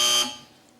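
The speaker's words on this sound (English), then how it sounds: "should any of our panel feel the need to bother with their buzzers today, they sound like this" A short, harsh electronic quiz show buzzer that cuts off almost at once and leaves a fading ring behind it.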